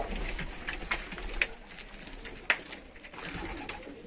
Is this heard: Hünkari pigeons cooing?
yes